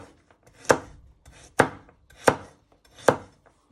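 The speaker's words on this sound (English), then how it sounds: "you first want to chop them down the middle. And you just want to slice them into little pieces" A knife chops a carrot into little pieces on a cutting board, four crisp, evenly spaced thuds close by with no talking.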